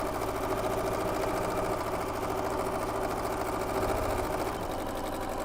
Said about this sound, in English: And I'm just sewing around the entire outer edge of these squares.